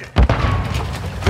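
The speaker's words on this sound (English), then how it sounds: "Oh, throwing grenade!" Grenade explosion in a Call of Duty DMZ hallway firefight: one heavy, close boom with a low thud, followed by rumbling tail and game noise.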